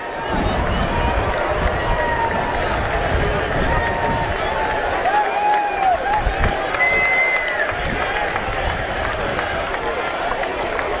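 A large crowd at a rugby grand final fills the air with sustained, loud, dense noise that sounds like booing and jeering, with a commentator's voice running over it.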